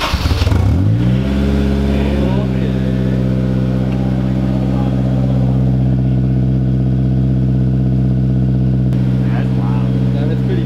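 A Honda S2000 fitted with an aftermarket exhaust snaps through a quick rev near the mic. It then settles into a loud, deep, steady idle drone that continues to the end.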